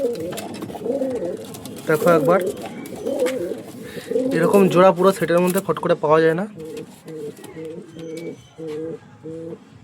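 Pigeons of the Mangalgiri Kalach and Mokai breeds coo close by in repeated rhythmic bursts, with someone speaking over and between the calls.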